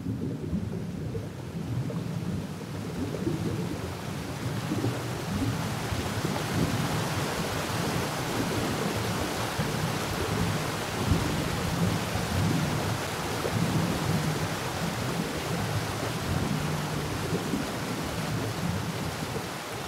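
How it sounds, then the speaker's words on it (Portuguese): A heavy tropical downpour with a thunderstorm in the middle Juruá River region of the Amazon: a dense, steady roar of rain with rumbling thunder, loud and unbroken throughout with no voices. "Uau, quanta chuva! Foi um toró daqueles mesmo, hein?"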